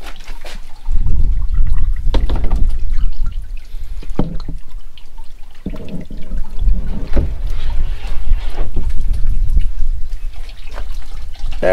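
Water pours and splashes through the channels of an overlanding camping sink and spills over, a close, loud run of sloshing, trickling and dripping with brief pauses.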